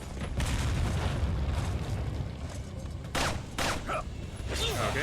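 Gunfire in the survival horror game Resident Evil 4 as the player's ammunition runs low, a soft, busy stream of shots and rumbling blasts laid over a steady noise of combat.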